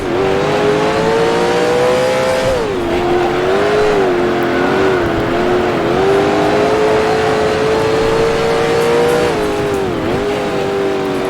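A 1966 Can-Am race car at Mont Tremblant in Grand Prix Legends screams at high revs, the engine note climbing and dipping through gear changes in a steady, loud, continuous drone with no talk.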